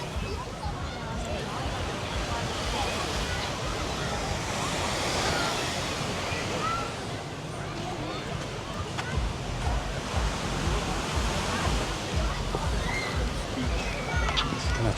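Sea waves at Nissi Beach in Ayia Napa, Cyprus, wash in as a steady, full surf roar with wind buffeting the microphone throughout.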